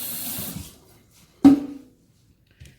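Tap water runs briefly to rinse raw egg off hands while making fish and chips batter: a soft stream fades out, then a short, sharp splash follows with a faint trailing drip.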